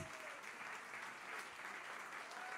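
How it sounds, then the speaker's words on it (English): An audience at a cabaret show applauds the band, a full, continuous roar of clapping from a large crowd, even and sustained throughout with no gaps. "Give them a round of applause."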